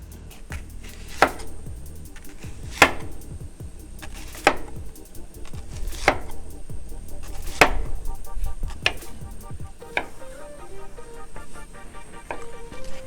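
Knife chopping through a red onion for grilled burger onions, sharp single cuts landing about every one and a half seconds, close and clear, with a few quicker taps and a faint background hum.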